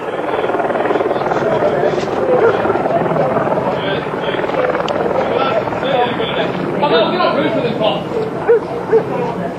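Police helicopter circling overhead during a night search for car thieves through a pub garden and backyards, a steady rotor drone under continuous radio chatter and voices.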